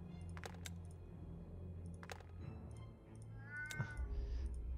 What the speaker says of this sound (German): Eine Katze höre ich auch noch irgendwo.